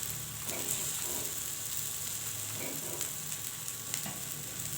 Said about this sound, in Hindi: कबाब का पलटा रही हूँ